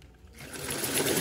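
Sewing machine stitching twine and backstitching: a short rapid mechanical whir that starts after a quiet moment and quickly builds to a steady, close, buzzing run.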